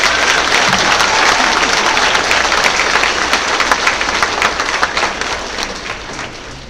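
Audience applause at a fifth grade promotion ceremony for a class, dense steady clapping from a large crowd that gradually thins and softens toward the end.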